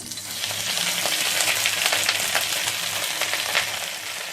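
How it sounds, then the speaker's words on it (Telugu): Gongura sorrel leaves fry in a kadai with a tablespoon of oil, giving a dense, continuous sizzle with stirring scrapes running through. "1 టేబుల్ స్పూన్ ఆయిల్ వేసుకోవాలి. శుభ్రం చేసి పెట్టుకున్నటువంటి గోంగూరను వేసుకొని"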